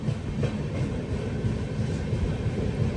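The Humsafar Express runs on between Jammu and Tirupati, a steady close rumble of wheels and carriage with a continuous low roar heard from on board.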